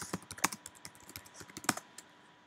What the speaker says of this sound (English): I know that was fast typing skills.